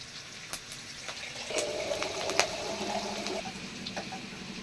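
Chana dal and tomatoes sautéing in hot oil with curry leaves give a steady, close sizzle and hiss lasting the whole stretch, with a few soft clicks and bumps over it.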